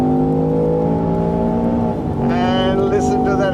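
A 2025 Land Rover Defender OCTA with a 5-litre supercharged V8 and ZF 8-speed gearbox accelerates hard, a steady droning engine tone shifting pitch as it gears up and pulls away, loud and close.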